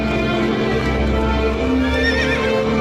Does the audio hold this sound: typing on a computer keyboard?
no